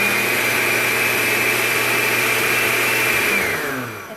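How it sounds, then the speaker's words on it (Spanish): A kitchen blender whirs continuously as it mixes banana and oats for oatmeal cinnamon cookie batter, a loud, steady motor drone close by that winds down at the end. "es que es una licuadora y a veces toma un poco de tiempo"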